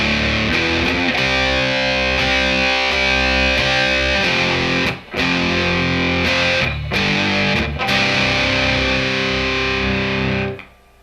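A heavily distorted electric guitar plays a song's riff, loud and continuous with chugging palm-muted notes and brief pauses, then ringing out at the end.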